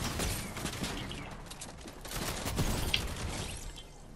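Shotgun blasts in Fortnite, with a few loud, heavy shots amid noisy, busy game sound and no talking.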